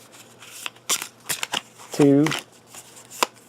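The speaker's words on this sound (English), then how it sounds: "I'm going to draw 4 cards" Playing cards drawn one by one from a shuffled discard pile in a 7th Continent board game session, several quick snapping flicks in an irregular rhythm, close, with a man counting aloud between draws.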